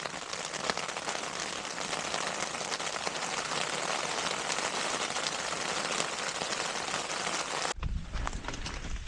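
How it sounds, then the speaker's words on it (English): Steady, dense rain patters on a surface nearby, a hissing wash of drops that continues throughout with no one speaking, on the Appalachian Trail. "And there's a rain."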